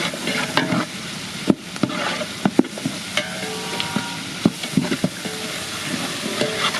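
Garlic paste, about 200 grams of peeled garlic, sizzling and frying in a pan with repeated stirring knocks and scrapes, close and steady with no talking.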